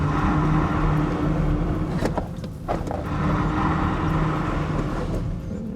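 A rear-wheel-drive BMW iX3 electric SUV accelerates hard in sport mode with traction control off, giving a steady close motor and road roar that stays loud throughout, with a brief dip midway.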